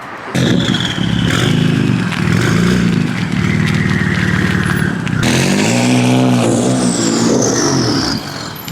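A BMW F80 M3 race car engine with a titanium exhaust revs hard and rises and falls in pitch, loud and close, with a rasping exhaust note and a brief drop midway before revving again.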